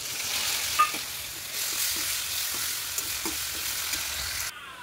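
Tomatoes fry in a pan with onion, garlic, cumin, mustard seeds and turmeric, giving a steady, close sizzle with soft stirring taps before cutting off near the end.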